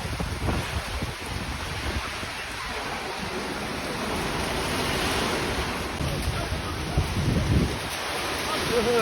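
A strong windstorm blows with heavy rain near a road, making a loud, continuous rushing roar and buffeting against the microphone, while voices are faintly heard in the background.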